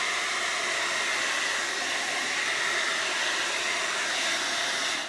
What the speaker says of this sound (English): if you turn the blow dryer on fast, you'll find that the paint will spread.